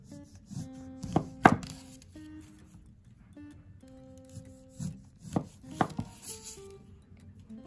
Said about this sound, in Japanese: ヘタとお尻の部分をまずは切り落としていきます。